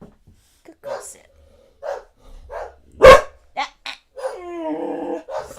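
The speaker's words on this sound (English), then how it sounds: "At least she's barking in the other room." A dog barks from another room, a few sharp barks and yips at moderate distance, with a person talking between them.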